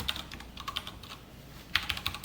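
Keys clatter on a computer keyboard as Java exception code is typed, a quick irregular run of close, crisp clicks with a short pause midway before a denser burst.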